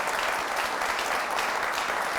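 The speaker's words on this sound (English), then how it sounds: "A round of applause for him once again." A studio audience at a talk show on a health workers' strike applauds, a dense, even roar of clapping hands sustained throughout.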